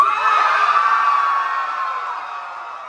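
Audience at a live drag show in Townsville screams loudly, a sustained high-pitched crowd roar that holds steady for about three seconds before slowly easing off.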